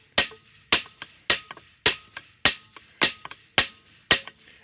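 A light hammer strikes the cast aluminum mounting bracket of a Mercury 4.5 hp outboard motor in sharp, ringing metallic blows, eight main hits at an even pace, some with a quick lighter rebound tap, close and loud with no talk.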